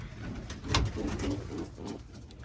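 Birmingham Roller pigeons in a breeding loft give soft low coos close by, with a steady rustling background.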